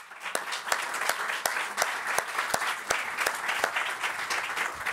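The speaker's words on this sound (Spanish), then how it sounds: "por favor, un aplauso para Eduardo de la Vega" Audience applause for Eduardo de la Vega at a Campus Party event in Mexico, a steady wash of many hands clapping with sharp individual claps standing out, sustained evenly for several seconds with no talk over it.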